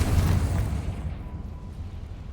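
Bombarda and Confringo spell explosions in Hogwarts Legacy, a loud, close blast that booms and then decays into a fading rumble.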